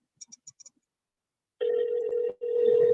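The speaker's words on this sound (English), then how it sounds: "Let's see if they pick up the phone though." An outgoing phone call: a few quick soft dial beeps, a short silence, then a steady ringback tone repeating twice, clear and close.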